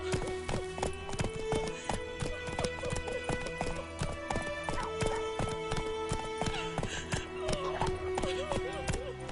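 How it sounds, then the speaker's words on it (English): A horse gallops in The Witcher 3 video game, rapid rhythmic hoof clip-clops running steadily throughout with a whinny and other game sounds mixed in. "Run, Roach"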